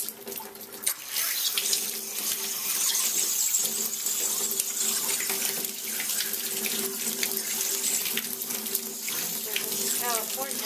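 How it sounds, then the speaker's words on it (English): A tap in California held open by hand runs steadily into a sink while a freshly cleaned trout is rinsed under it. The rush of water is loud and continuous, with small splashing changes as the fish moves in the stream. "They got these damn faucets you got to hold open with one hand."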